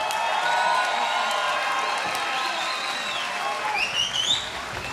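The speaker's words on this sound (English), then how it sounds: "let me give a big round of applause for Sam Daybell" Crowd at a SteelFist 91 fight event applauding fighter Sam Daybell, a steady wash of clapping with whoops and cheers rising near the end, fairly loud and sustained throughout.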